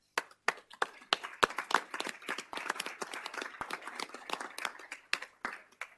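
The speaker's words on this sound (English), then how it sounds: "after this round of applause" Scattered clapping at a city council meeting, individual sharp claps from a modest group in a room, irregular and uneven rather than a dense roar, thinning toward the end.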